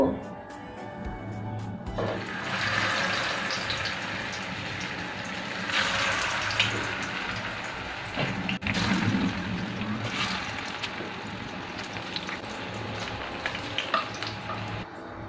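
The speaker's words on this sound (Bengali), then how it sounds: "তেল গরম হয়ে গেছে, এবার কাবাবগুলো একটা একটা করে দিয়ে দেব।" Mushroom kebabs are set one by one into hot refined oil in a pan, bursting into sizzling crackle that swells and settles over a low flame, with a voice speaking over it.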